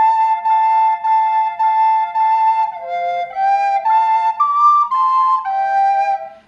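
A recorder plays a slow Marian hymn melody alone, clear and close, with long sustained pure notes stepping gently up and down and small breaths between phrases.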